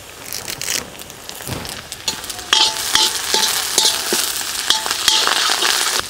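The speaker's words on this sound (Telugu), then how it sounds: "చీలికలు చేసి పెట్టుకున్న 6 పచ్చిమిరపకాయ ముక్కలు, అలాగే 4 రెమ్మల కరివేపాకు కూడా వేసుకుని బాగా కలుపుకుందాం." Onions, green chillies and curry leaves fry in oil for a chicken fry, with steady sizzling and repeated scrapes of a spoon stirring the pan, getting louder midway, no voices.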